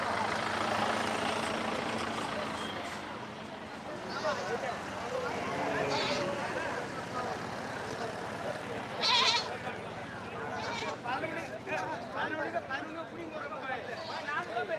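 Goats bleat now and then amid the busy crowd noise of the Kandachipuram goat market, with people talking throughout.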